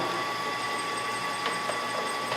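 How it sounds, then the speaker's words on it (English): A metal outer locking nut spun down onto a pulverizer grinding wheel, giving a steady mechanical whir with a few soft ratcheting clicks over a constant hum, close by with no talk. "you put that outer locking nut on, spin it down"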